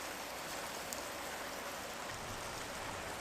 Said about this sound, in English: Nothing like grilling in a rainstorm